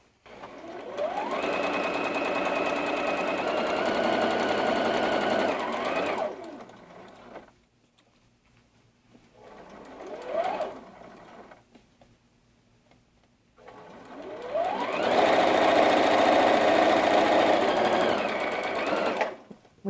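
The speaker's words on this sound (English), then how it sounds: "you can just go ahead and sew because you already know where you're going to start" Sewing machine stitching a quilt block seam, fast rapid-fire mechanical clatter in two loud bursts of several seconds each, separated by a quieter gap with a brief short run of stitches.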